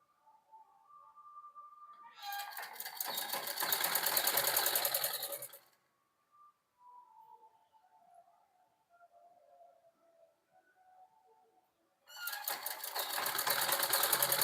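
Sewing machine stitching cloth panels together for a shirt body, running in two long loud bursts of rapid mechanical whirring separated by a quieter pause of fabric handling and a faint hum.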